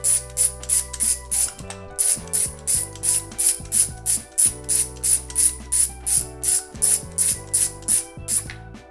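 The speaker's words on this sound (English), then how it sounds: "I take my 16mm socket with an extension, deep socket so it can actually reach in there. We're gonna go ahead and loosen these up." A ratchet with an extension and a 16mm deep socket loosens spark plugs on a Nissan KA24DE engine, making loud, close, rapid ratcheting bursts in a steady back-and-forth rhythm with a brief pause partway through.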